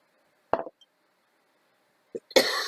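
A person coughs close by, two short harsh bursts separated by a couple of seconds of quiet, the second one longer and rougher.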